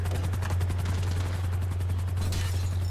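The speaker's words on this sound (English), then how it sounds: "We can take out that helicopter." A helicopter flies in the video game GTA 5 Online, its loud, steady rotor drone running throughout with rapid chopping pulses and a brief sharp burst near the end.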